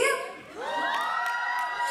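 A hall audience of girls shouts and cheers together on cue at a charity event, a loud sustained crowd yell rising and holding for about two seconds.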